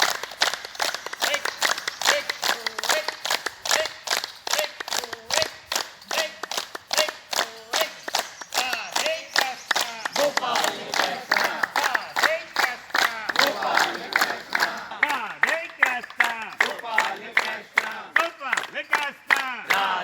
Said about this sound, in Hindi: क्लब से जुड़े लोगों ने ताली बजाकर भाग लिया